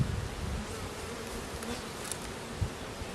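Honey bees swarm around an opened hive during an inspection, producing a steady, close, droning buzz with no talking.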